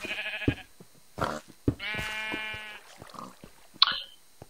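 Sheep in the video game Minecraft with the Tekkit mod bleat several times, short nasal cries scattered among soft game clicks and thumps, fairly close, with no talking.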